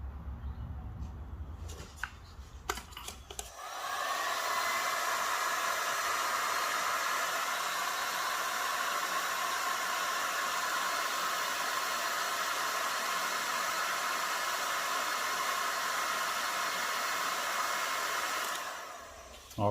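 A heat gun blows a steady, loud airy hiss while shrinking heat shrink tubing over motorcycle wiring on a Yamaha FZ6 Fazer streetfighter build, starting after a few handling clicks and running continuously for about fifteen seconds before cutting off.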